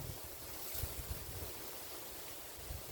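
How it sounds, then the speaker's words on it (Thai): Strong wind gusting outdoors across open fields, a quiet broadband rush with soft low buffeting bumps against the microphone, no voices heard. "ลมแรงมากเลย"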